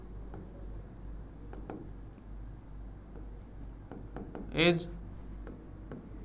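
Pen scratching out a sentence by hand during a Hindi-language English grammar lesson, soft intermittent strokes close up beneath a teacher's steady speech.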